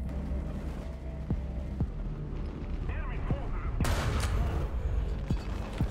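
Sherman tank gun firing in War Thunder, with several sharp booming shots spaced through a rumbling engine and battle din, one heavier blast near the end.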